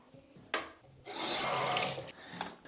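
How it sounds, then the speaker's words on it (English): Hands are rubbed and rinsed under a running tap, a brief splash followed by a steady hiss of water for about a second, then quieter rubbing, close and alone without talk. "after I wash my hands"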